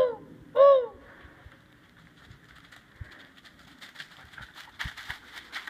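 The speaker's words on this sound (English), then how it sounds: "What was that? An owl." A single owl hoot near the start, followed by quiet outdoor ambience with scattered faint rustles and distant higher-pitched chirps.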